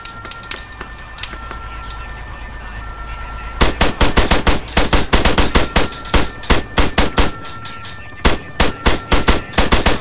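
Gunfire in the video game Arma 3 Altis Life: rapid sharp shots crack in quick bursts over a steady background hum, loud and close, with brief pauses between volleys.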